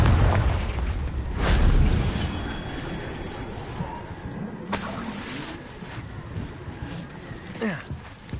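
In Hogwarts Legacy, the Confringo fire spell bursts into a heavy booming explosion, followed by rumbling debris and a few sharp cracks, with a voice calling out the spell beforehand.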